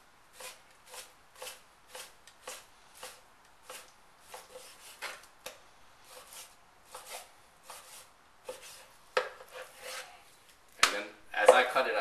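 A knife slices meat at an angle on a cutting board in a steady rhythm of soft, close strokes about two per second, ending with louder knocks and handling noise.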